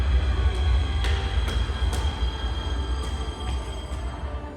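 A Nürnberg U-Bahn U1 subway train runs at Plärrer station, a loud steady low rumble with sharp periodic wheel clicks and squeaky accents over the tracks, no voices.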